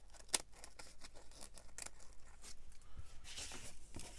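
Scissors snip the overhanging edge of a giant specimen slide craft project in short, quiet cuts, with small crinkling and rustling of material between the snips.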